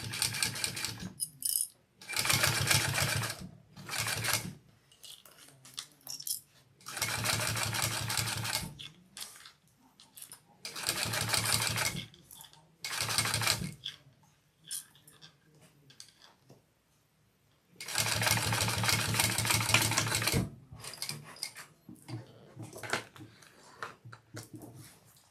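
A flatbed sewing machine stitches a bag seam in several bursts of rapid mechanical whirring, each lasting one to three seconds and separated by quiet pauses and soft handling clicks.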